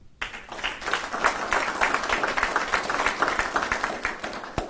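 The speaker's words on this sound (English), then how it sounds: "please join me in a round of applause for the entire Lowrey family" Sustained applause from an audience at a US Army general officer promotion ceremony, many hands clapping steadily and fairly close for several seconds with no talk over it, ending in a sharp final clap.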